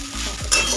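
A spoon stirring sabudana khichdi in a pan over a medium gas flame, a brief scrape and shuffle of the grains against the metal over a soft steady sizzle, close and alone.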